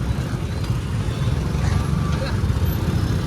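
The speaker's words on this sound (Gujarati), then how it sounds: "ગાડીવાળા ભાઈ ટ્રાફિક બહુ ટ્રાફિક છે હો ભાઈ." Busy road traffic in Gujarat gives a dense, continuous low rumble of passing cars, buses and trucks, with faint higher tones above the roar.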